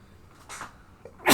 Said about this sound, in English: Ooh, had to sneeze.